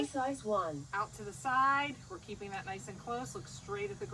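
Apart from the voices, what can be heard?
No everyday noises stand out.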